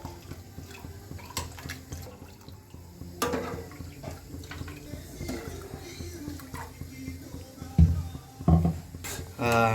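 Water is poured into a pot of rasam being cooked for about ten people, with splashing and trickling amid kitchen clatter and occasional talk.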